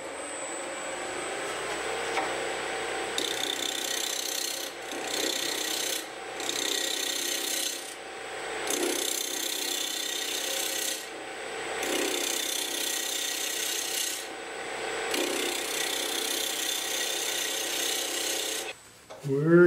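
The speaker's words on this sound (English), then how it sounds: "I'm going to take off a little bit of wood right here. And then I'm going to go to the center." Wood being turned on a lathe at about 1600 RPM, a fast off-center racer shape: a continuous whirring hum broken by repeated bursts of scraping and rasping as the tool takes off wood, with no talking.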